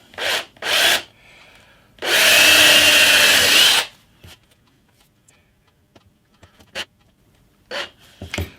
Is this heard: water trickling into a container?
no